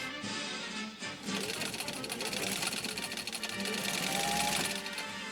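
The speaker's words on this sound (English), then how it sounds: "lay down this last row of stitching down the middle and see if we can get a better defined lock stitch" A Singer 15-91 sewing machine runs a lock stitch, a rapid, steady mechanical chatter that speeds up after a brief start, with a voice talking over it.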